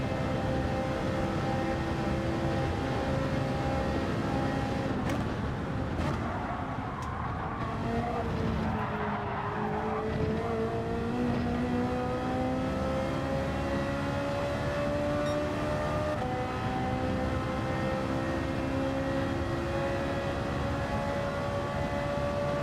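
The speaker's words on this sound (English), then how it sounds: "I'm doing this in a Ferrari" A Ferrari race car in Gran Turismo 7 holds a steady, loud engine drone whose pitch dips and climbs through gear changes, with a squeal of tires partway through.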